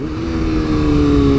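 A motorcycle engine revs in first gear on a tight corner, a loud, close, sustained growl that climbs steadily in pitch as the bike pulls away, with no talking.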